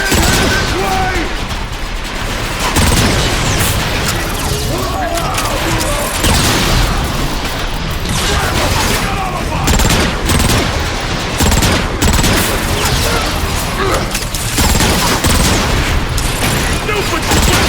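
Dense battle sounds from the Transformers: Fall of Cybertron video game: rapid gunfire and heavy booms fill the whole stretch, loud and relentless, while voices shout over the din.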